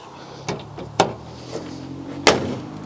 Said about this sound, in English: I don't like slamming bonnets